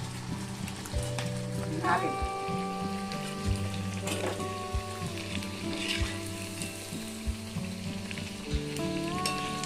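Aloo poha snacks fry in hot oil with a steady crackling sizzle and scattered pops, heard beneath background music.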